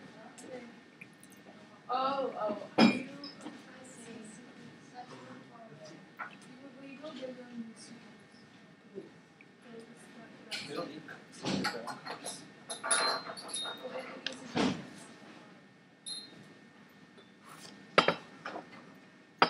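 During a tea lesson, hot water from a teapot is poured into small teacups, and scattered ceramic clinks and taps ring out between stretches of quiet conversation.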